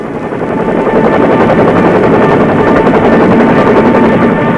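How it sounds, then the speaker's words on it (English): A 1960s Vietnam War-era military helicopter flies close and loud, its rotor beating in a rapid, steady throb over a heavy engine drone for the whole stretch. "We fly above the beach assault force, for our helicopter landing zone is well inland"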